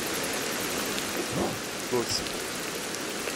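Rain falls in the video game Ancestors: The Humankind Odyssey as a constant hissing wash. Someone briefly speaks a word over it.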